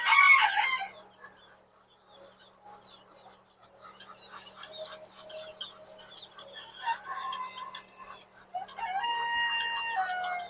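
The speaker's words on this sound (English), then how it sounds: "You guys see we got some chickens and some baby chickens." Chickens and chicks on a farm: an opening crow or loud squawk, then scattered soft clucks and high peeping chirps from the birds nearby, with faint handling noise and a low background hum.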